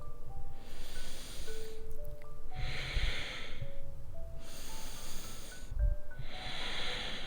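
Slow, steady breaths in and out during a morning yoga session, each exhale a soft airy rush in a regular rhythm, over faint background music.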